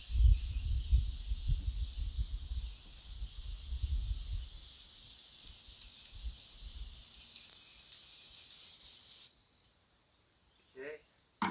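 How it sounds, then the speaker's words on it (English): Rattle-can spray paint hissing steadily onto plastic buckets, a continuous close spray lasting several seconds over faint low handling noises, then cutting off abruptly to near quiet with a couple of small knocks. "I'm going to use just a rattle can spray paint."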